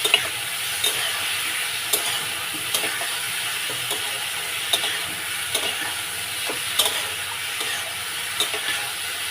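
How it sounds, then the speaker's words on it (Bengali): Spiced masala with onion and ginger sizzles steadily in a pan while a spoon stirs it, adding regular light scrapes and taps over the continuous frying hiss. "এইভাবে আস্তে আস্তে মশলাটা ভালো করে কষে নিতে হবে।"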